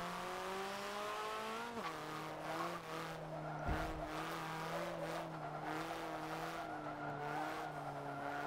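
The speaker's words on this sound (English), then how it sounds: "A little backfire." A car in the Forza 7 racing game hums along at steady engine pitch, shifting tone as it slows, with one sharp exhaust backfire pop midway; quiet overall.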